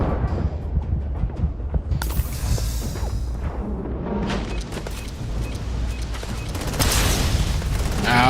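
A turret in the space game Starfield fires in loud, rapid bursts with heavy booming impacts and mechanical whirring, continuing and intensifying toward the end.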